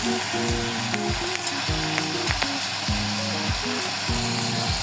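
Chicken soup ingredients stirred in a pot for a creamy chicken soup, with a steady sizzle under repeated scraping strokes of a spoon that come in uneven bursts, close and fairly loud, with no talking.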